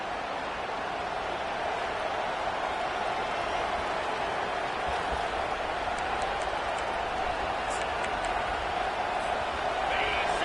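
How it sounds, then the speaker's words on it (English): Steady roar of a big stadium crowd in the NCAA 25 college football game, a broad even wash of cheering and noise that holds level throughout with no breaks. "This crowd bringing the energy and noise early."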